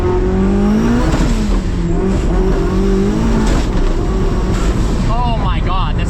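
A 1750 hp SSC Tuatara hypercar accelerates hard in first gear with traction control on, its loud engine roaring and rising in pitch from inside the cabin. A voice reacts over the roar.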